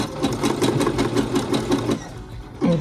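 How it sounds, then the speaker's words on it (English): A sewing machine stitches elastic onto fabric for a ruffle top, running loud and close with a steady rapid mechanical rhythm, then slowing and stopping near the end. "when I'm sewing it on, it will create a ruffle"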